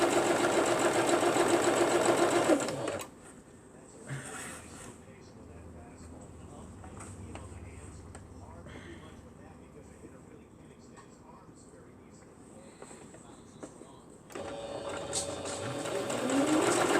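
A sewing machine stitching quilt fabric for a bar jello quilt runs in a loud fast whir at the start and again near the end, with a quieter stretch between where it seems to idle or pause.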